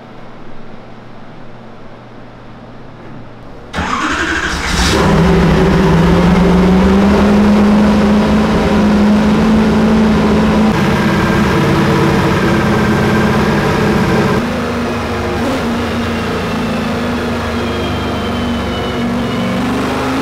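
Car engine on a dyno roaring up from a low background hum into a loud, sustained high-rpm wail with a rising tone, then holding steady at a slightly lower level, close and alone.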